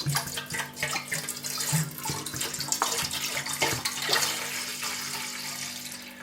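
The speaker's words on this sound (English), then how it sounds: "So we have 2 cups of water, which go right into the pot." Two cups of water pour steadily into a cooking pot in a home kitchen, a continuous close splashing and rushing stream with a faint hum underneath and no talking.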